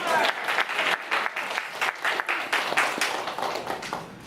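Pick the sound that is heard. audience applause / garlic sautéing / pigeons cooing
audience applause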